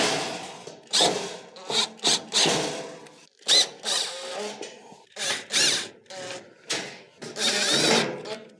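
Phillips screws are driven around the perimeter of a Samsung stove panel, a series of close, short rubbing and squeaking screwdriver turns in irregular bursts with brief pauses between them.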